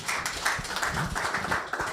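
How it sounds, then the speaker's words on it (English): Conference audience applauding the panelists, a dense patter of many hands clapping at moderate distance, continuous for the whole moment. "Please, a round of applause for every panelist here."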